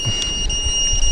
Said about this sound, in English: So you can hear the beeper, but you know, I wish it was a little bit louder